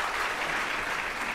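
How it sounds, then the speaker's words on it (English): An audience breaks into a brief burst of dense, even clapping, close and alone without talk. "Give them a round of applause"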